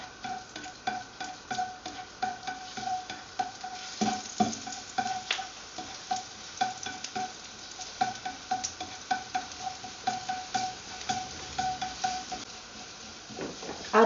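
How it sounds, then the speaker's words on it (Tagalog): Garlic sizzles in hot oil in a pan, crackling steadily while a utensil scrapes and clinks against the pan as it is stirred continuously. The cooking is close up, and no one speaks. "Now the oil is hot. Saute the garlic. Stir continuously until it turns golden brown."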